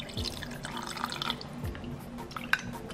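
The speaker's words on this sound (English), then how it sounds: "So add some cold water to that." Cold tap water runs and drips over raw chicken strips in a bowl as they are washed, a light, steady patter with a few louder splashes, close by.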